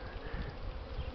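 Honeybees buzz steadily on an early spring cleansing flight near snow-patched ground, a dense, continuous hum of many wings close to the microphone with no voices.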